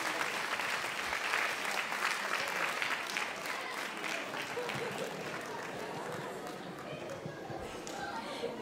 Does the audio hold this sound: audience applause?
yes